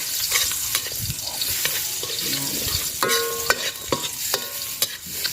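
Onion and garlic sizzle steadily in a hot pan on a farm kitchen stove, while a utensil stirs and scrapes with a few light clinks and taps.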